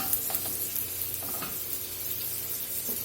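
A pepper-crusted steak sears in a pan over medium heat, giving a steady, close, continuous sizzle and crackle throughout.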